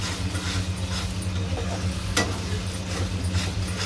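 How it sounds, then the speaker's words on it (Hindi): Tomato masala being roasted and stirred constantly in a pan for a potato and capsicum curry, a soft continuous sizzle with a low steady hum and occasional light scrapes, fairly close, no talking. "इस मसाले को हम लगातार चलाएंगे, जो भी टमाटर है वो इस तरह से सॉफ्ट हो जाएंगे।"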